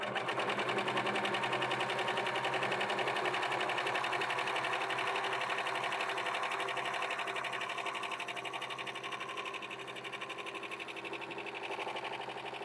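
A self-threading serger stitches through tissue paper with a steady, fast mechanical whir and rapid needle chatter, close and continuous, easing slightly toward the end with no talking.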